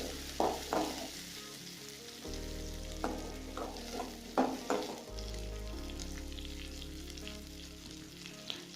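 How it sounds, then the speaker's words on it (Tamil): Tomato, onion and garlic fry and sizzle steadily in a pan for a Tamil sundakkai kuzhambu, with a few clattering stirs of a spoon against the pan over the continuous hiss. "தக்காளி, வெங்காயம், பூண்டு இதெல்லாம் நல்லா ஃப்ரை ஆகி வரணும்"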